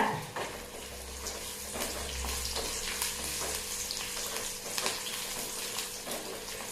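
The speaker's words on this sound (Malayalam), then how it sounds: "നമ്മുടെ ഉള്ളിയൊക്കെ നന്നായി മൂത്ത് വന്നിട്ട് കേട്ടാ രണ്ട് കറിവേപ്പില ഇടുക" Onions and curry leaves fry on low heat in a pan for a green spinach erissery, giving a continuous soft sizzle broken by occasional stirring scrapes and light clinks.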